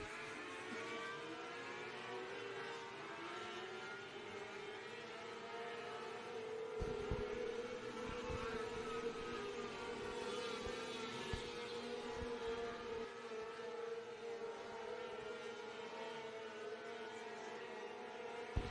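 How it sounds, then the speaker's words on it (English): Race cars run qualification hot laps for the restricted division at I-44 Speedway on Thursday night, their engines droning steadily at a distance with a sustained whine that swells slightly as cars pass. "Your final competitor for your final flight of qualification hot laps for your restricted division."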